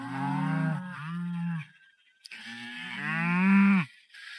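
Cows mooing when called in for milking: two long, loud, close lowing calls separated by a short pause, alone without talk.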